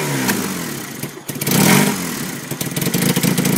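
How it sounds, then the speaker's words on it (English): A 1980 Honda CM400 cafe racer motorcycle revs up close and loud, its engine rising and falling, then sputtering and popping unevenly at mid throttle with no one talking. "when I go mid, you can hear it sputter"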